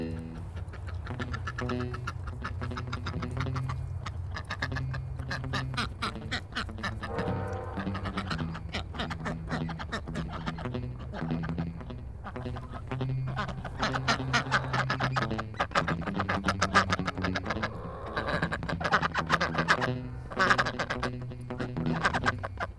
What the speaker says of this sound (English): Oh yeah, our ducks.